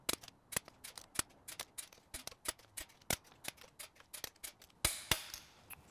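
A torque wrench tightens bolts on a 350 small block Chevy engine, giving a rapid series of sharp, close metallic clicks, roughly twenty in six seconds, with a slightly louder cluster near the end and no talking.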